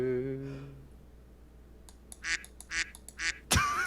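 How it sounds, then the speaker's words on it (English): A duck-quack transition sound effect plays as a run of four short, sharp quacks in a row, ending with a louder burst, after a voice fades out at the start. "Transition duck, we're ready."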